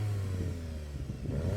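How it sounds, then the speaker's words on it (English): A VW Golf GTI, Ford Focus ST and Skoda Octavia vRS, set to sport mode with sports exhausts, have their engines revved. A short, moderately quiet burst of engine tone rises and falls. "Let's rev them up, see what they're like."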